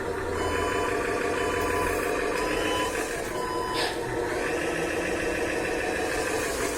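A radio-controlled Hino dump truck runs in second gear, its small electric motor giving a steady, continuous whine with a faint high beeping over it, close and loud throughout.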